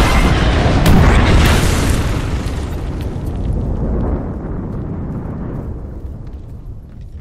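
Airstrike explosions in Apex Legends: a heavy, loud boom bursts early, then a rumbling roar that slowly fades and trails off.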